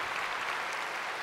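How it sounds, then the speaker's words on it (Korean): A church congregation claps together during a Korean worship service, a dense, steady wash of many hands filling the room without a break. "박수 한번 하십시다"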